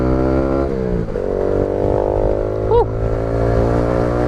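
A Kawasaki Z125 Pro motorcycle engine revs and accelerates hard from a light on the street, its buzzing tone climbing through a gear change, loud and close with a voice talking over it.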